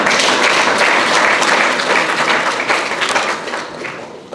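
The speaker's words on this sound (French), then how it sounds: "sous vos applaudissements, s'il vous plaît" A large audience at a professional leadership and security diploma graduation ceremony claps continuously in a dense, loud wash of applause that holds steady throughout, then eases slightly near the end.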